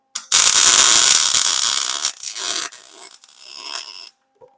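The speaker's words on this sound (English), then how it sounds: "I'm just going to take my welder and I'm just going to weld around the middle of the inside of this hole" A welder lays a rosette weld around the middle of the inside of a hole while building a 1.6-inch scale GP40 locomotive, giving a loud, close, steady crackling hiss for about two seconds, then broken sputtering bursts before it stops.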